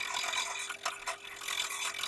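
A ball gouge cuts a piece of wood spinning between centers on a lathe, giving a close, continuous rough scraping and rasping with slight rhythmic variation as the blank is rounded.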